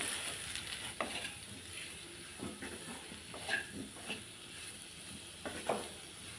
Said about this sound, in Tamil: இப்போ லேசாக ஒரு பரட்டி விட்டுருவோம்.